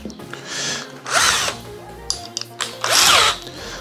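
A cordless drill bores holes through a waterproof airbox lid for a Polaris Scrambler or Sportsman 850–1000 ATV, resting on a wooden backing board; three loud whirring bursts come up close, with short pauses between them.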